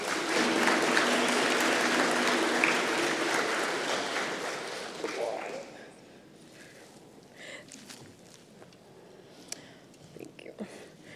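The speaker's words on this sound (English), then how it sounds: "Please give her a round of applause." An audience at an award ceremony bursts into loud, dense applause that holds for about five seconds, then stops abruptly, leaving quiet room noise with a few faint shuffles and small sounds.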